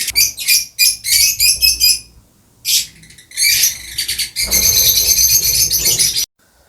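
A colony of lovebirds chatters shrilly and loudly at close range, first in short bursts with gaps between them, then as a dense, continuous chorus that stops abruptly.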